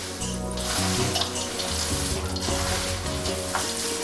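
Crispy fried corn chivda pours into a large metal plate, making a continuous close rattling, rushing sound like running water that lasts throughout without speech.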